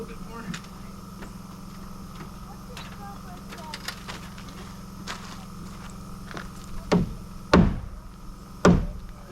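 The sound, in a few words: knocking a rafter into place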